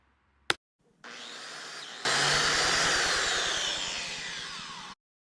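A biscuit joiner cuts slots in mahogany boards, starting with a click, then the motor spins up and whines loudly as the blade bites the wood for a few seconds before stopping abruptly.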